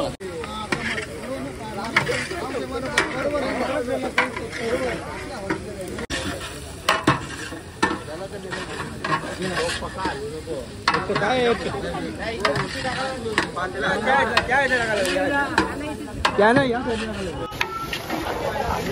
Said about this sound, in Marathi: आता कांदा पण एकदम परतून घ्यायचा, लालसर त्याचा वास कमी होतपर्यंत तो गरम करून घ्यायचा